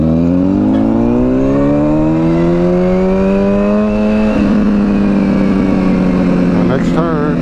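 A Honda CBR 1000RR motorcycle engine drones steadily in traffic, its pitch climbing smoothly under acceleration, then shifting after a gear change near the middle, with a brief horn-like blip near the end; loud and close throughout.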